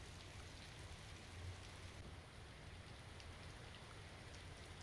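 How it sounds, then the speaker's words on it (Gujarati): Heavy monsoon rain pours in the Gir forest near a hilltop temple in Gir Somnath, a steady, dense wash of falling drops that stays fairly faint and even, with no voices. "મોડી રાતથી ગીરમાં ભારે વરસાદ વરસી રહ્યો છે"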